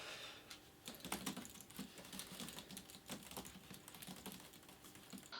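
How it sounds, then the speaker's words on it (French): Fingers tap away on a computer keyboard, a quiet, fast and uneven patter of keystrokes close by, with no talking. "je préfère appuyer sur plein de touches, sur le clavier pour le style"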